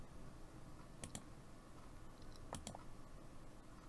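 Faint computer mouse clicks during digital card design, a few quick clicks in two small clusters over a quiet room hum.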